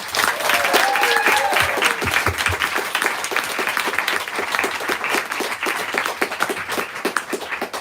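Warm audience applause welcomes authors Megan Abbott and Andrea Bartz at a book event, a dense, steady clapping that holds loud for the whole stretch and eases only slightly toward the end.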